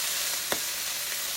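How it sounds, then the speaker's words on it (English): Diced ham frying in a pan over high heat gives a steady soft sizzle, with one brief louder pop partway through; no voices. "You hear it popping, cracking?"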